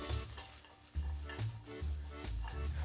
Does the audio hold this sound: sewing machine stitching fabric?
no